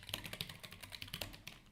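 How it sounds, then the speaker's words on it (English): Rapid typing on a computer keyboard during practice on a typing website, a quick, irregular stream of light key clicks heard close and fairly faint. "just typing on websites like keybr.com"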